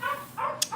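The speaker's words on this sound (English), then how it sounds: "I'm sorry about the dogs" Dogs give short whining barks indoors, two or three yelping calls in quick succession at moderate distance, with no talk over them.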